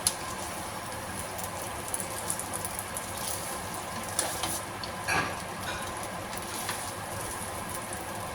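Boiled spaghetti fries in a pan with a steady, dense sizzle and occasional crackles and scrapes, continuous and close with no talk.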